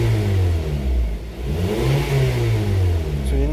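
A 2010 Honda CR-V with a lean fuel condition (P0171, bank 1) revs up under throttle: a loud, close engine drone climbs in pitch, dips briefly, then rises again.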